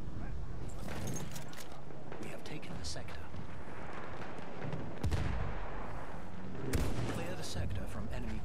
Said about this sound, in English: I'll take out the artillery.